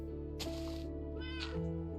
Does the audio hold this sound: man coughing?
no